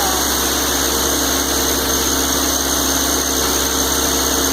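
A Kubota B3200 compact tractor fitted with a BH77 backhoe runs its engine steadily near at hand, a continuous loud idling rumble with vibration and no pauses while the tractor is lifted.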